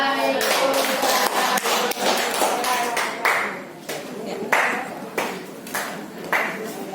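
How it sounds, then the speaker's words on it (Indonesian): Junior high school students clap in a classroom after a group presentation, a scattered, uneven patter of hand claps with voices talking underneath. "Ya, tepuk tangan."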